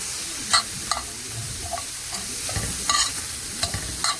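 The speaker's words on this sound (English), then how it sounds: "After this finished frying up, I didn't use any oil." Chicken breast fries in a dry pan with no oil, a soft crackling sizzle with intermittent scrapes and stirs of a utensil, close and quiet, with no talking.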